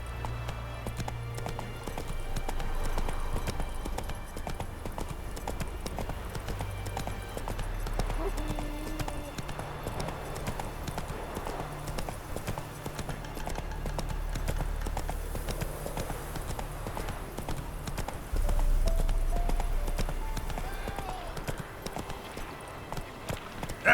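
Hooves of Geralt's horse Roach galloping in The Witcher 3, a steady rapid clip-clop close by over game ambience, with a brief spoken line.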